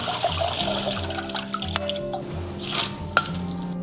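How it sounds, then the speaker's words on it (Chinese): Shrimp meat, heads and shells are rinsed in water close by, with steady dripping, squishing and small splashes. "再把虾仁跟虾头、虾壳简单清洗一下"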